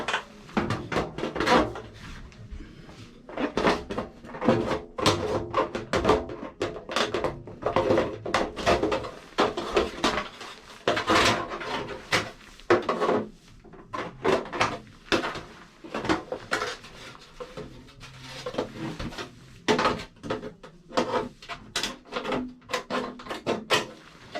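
Metal duct of a telescoping periscope dryer vent being trimmed and handled during installation, giving a busy run of clanks, scrapes and rattles that keeps going for the whole stretch, close by and without talk.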